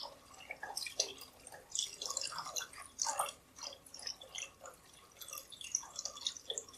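Water rinsed from the leftover tomatoes in a can is poured into a meatball sauce, a soft run of trickling, dripping liquid with small splashes, close by and fairly quiet, with no talking.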